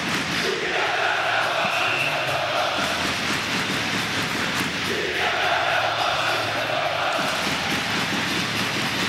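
Hockey fans of CSKA Moscow and Spartak Moscow fill packed stands at a 2009 KHL match, raising a continuous, dense, loud crowd roar that swells and holds steadily throughout, with no clear single voice rising above it.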